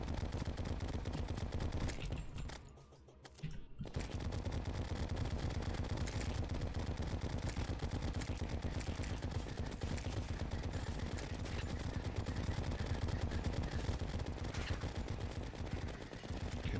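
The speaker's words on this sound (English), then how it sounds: "Actually, I need to use up my exploding bullets." Rapid, dense bursts of exploding bullets fire in the video game Terraria, a continuous loud clattering barrage that briefly drops out before resuming.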